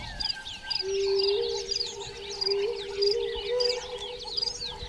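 Wild birds call across the bush at Manyoni Reserve in Africa, with repeated high chirps and a longer steady whistling note carried over a soft outdoor background, moderately close and without talking.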